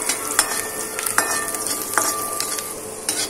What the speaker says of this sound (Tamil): பூண்டு போட்டுட்டு ஒரு 2 நிமிஷம் அதோட பச்சை வாசனை போறதா வச்சுமா